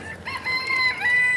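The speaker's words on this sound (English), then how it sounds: "There's some chickens." Chickens at an animal market, steady clucking and crowing calls that rise and fall close by over a busy background, with no talk.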